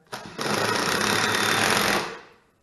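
A power screwdriver drives a screw into wood, one steady high-pitched motor whir lasting about two seconds, close and fairly quiet, then winding down.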